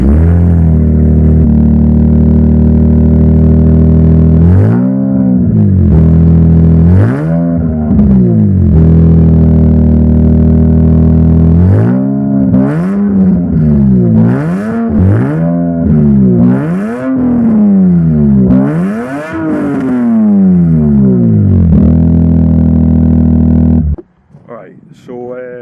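A Lexus IS200 with a new exhaust starts up and idles loudly, then is revved repeatedly in sharp rising and falling bursts close by before cutting off near the end.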